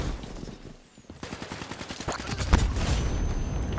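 Rapid bursts of video game gunfire in Call of Duty: Black Ops III crackle in quick succession after a brief lull, fairly close and sustained, with a heavier thump partway through.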